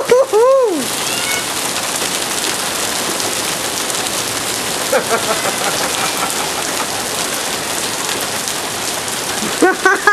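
Steady rain pours down outdoors, a dense continuous hiss of drops striking surfaces, with a brief vocal whoop at the start and faint voices near the end.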